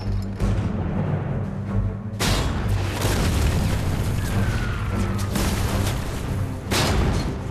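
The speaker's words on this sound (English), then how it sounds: "the two men are caught in a sustained mortar attack" Mortar rounds exploding in a sustained bombardment, heavy overlapping booms and rumbling blasts that come in loud, dense bursts with barely a break between them.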